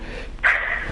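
A pit bull gives a single short, close bark with a breathy edge.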